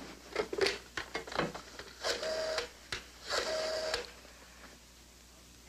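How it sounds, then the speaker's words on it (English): A telephone is dialed in an old sitcom scene, a quick series of clicks and two steady tones as the number goes through, fairly faint and close, with no talk over it. "Pick up that phone and dial Beachview 23598."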